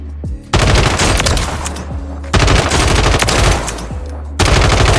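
Ram 7 assault rifle from Warzone 3 fired in loud, sustained full-auto bursts, with three long strings of rapid shots broken by short pauses, close and dominant.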